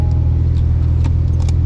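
A steady low engine rumble drones continuously from a Porsche 911 race car idling close by, with faint clicks and jingles on top.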